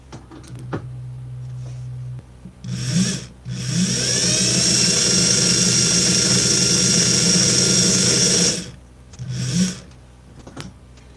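A DC motor with separately powered rotor and stator windings starts up, spins with a loud steady high whine for about five seconds, then cuts off, leaving a faint background hum in a lab setting.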